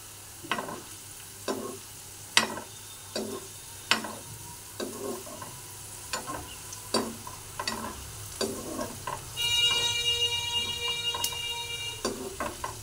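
Okra kurkure fries gently in oil on low heat with a soft, continuous sizzle, punctuated by about a dozen sharp utensil clicks and scrapes at an uneven rhythm, with a brief faint tonal ringing near the end.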